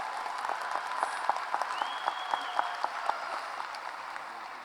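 A large crowd applauds parents at a high school graduation ceremony, a soft wash of clapping heard at a distance with a few sharper nearby claps, tapering off near the end.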